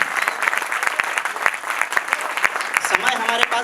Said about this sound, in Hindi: एक बार पूरा मन से मुझे ताली बजाकर आदेशित कीजिए।